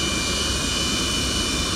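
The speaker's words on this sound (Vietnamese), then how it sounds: "Chiếc máy bay khổng lồ đang từ từ tiến vào bãi đỗ ở sân bay Tân Sơn Nhất" Antonov An-124 giant cargo plane taxiing into a parking stand at Tan Son Nhat airport, a loud, continuous jet-engine roar with a steady high whine, close and unbroken, no talking.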